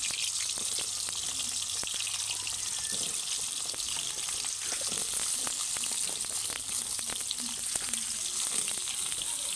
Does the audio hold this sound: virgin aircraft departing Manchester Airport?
no